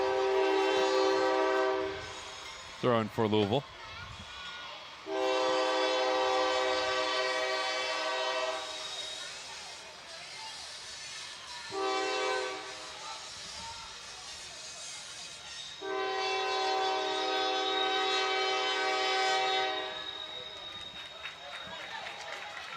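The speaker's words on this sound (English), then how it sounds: "here comes the train." Train horn blasting in repeated long, loud tones as a train passes near a soccer stadium during a college men's match, with rumble between blasts and a commentator talking over it.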